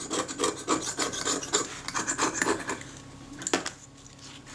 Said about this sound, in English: I'm just using the back edge of my scalpel blade here to scrape that rubbish off